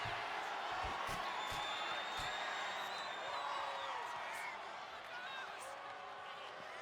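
A wrestling arena crowd in the WWE 2K25 video game roars continuously at a steady level, with faint whistles and occasional thuds mixed into the dense background noise.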